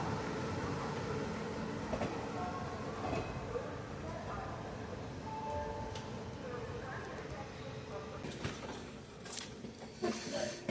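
A special passenger train near Howrah rumbles steadily on the rails, with clattering wheels, squeals and knocks over an ongoing roar, and voices talk faintly inside the carriage.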